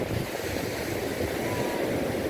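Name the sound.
beach waves and surf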